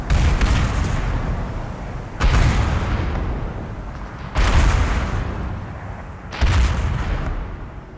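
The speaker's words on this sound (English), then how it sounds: "Mortar's coming down." Mortar rounds explode in a row in Arma 3, four heavy booming impacts spaced about two seconds apart. Each one hits suddenly and its rumble trails off before the next, loud and with no talk over them.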